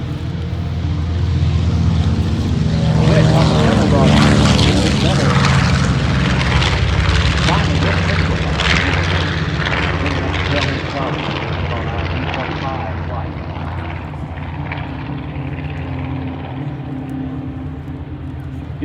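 Propeller aircraft flying at the OshKosh AirVenture airshow with an all-female crew aboard, a loud sustained engine drone that swells and slowly fades, with talk running over it throughout.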